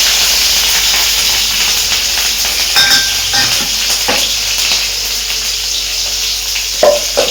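Garlic and green chili dropped into well-heated oil already holding cumin and mustard seeds, hissing and crackling in a loud, steady sizzle, with a few stirring clicks and pops near the end and no talk.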